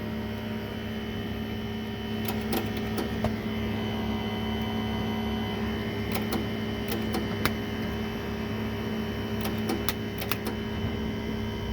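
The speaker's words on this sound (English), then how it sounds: "We're gonna weld this Porsche exhaust." A Porsche Boxster catback exhaust is welded in a garage: a faint steady electrical hum and buzz with scattered sharp crackling bursts from the arc, fairly quiet and without talk.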